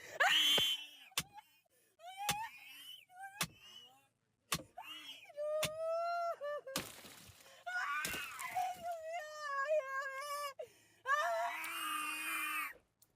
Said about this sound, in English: Some bullshit screaming.